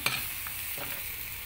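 Fish with chili frying in a pan, a steady sizzling hiss that fills the clip, with a brief clatter of stirring or turning near the start and no voices.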